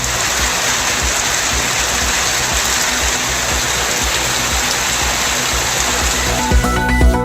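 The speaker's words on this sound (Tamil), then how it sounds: "நெல்லை மாவட்டம் திசையன்விளையில் கனமழை" Heavy rain pouring down in Thisayanvilai, Tirunelveli district, making a dense, steady roar of water that holds evenly throughout with no voices.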